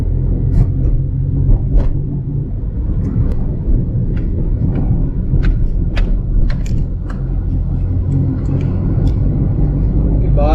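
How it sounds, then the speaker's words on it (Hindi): Road traffic crawls along the highway to Shimla, a continuous low rumble of engines from a vehicle in the flow, with scattered clicks and knocks, and a person talks over it. "ये सारा चल रहा है ट्रैफिक"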